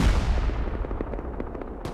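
Rockets firing and explosions boom in a Rust video game raid, a dense barrage of low rumbling blasts and sharp cracks piling up continuously with a brighter burst near the end.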